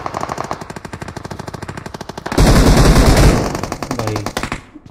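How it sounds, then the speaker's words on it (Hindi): Loud, rapid automatic gunfire in the PUBG Mobile video game, sustained bursts of shots with a heavier, denser volley in the middle before the firing trails off. "फायर चल रही बहुत भयंकर"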